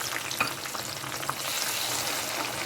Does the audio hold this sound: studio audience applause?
no